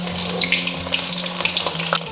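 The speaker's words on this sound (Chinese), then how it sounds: "我们就可以开始炸。" Shredded taro frying in medium-hot oil in a wok gives a close, steady sizzle with dense crackling bubbles throughout, and no voices.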